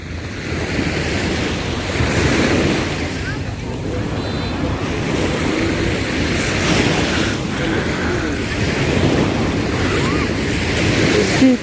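Steady roar of surf washing onto Bosowa beach in Makassar, with wind buffeting the microphone throughout; no clear voices stand out.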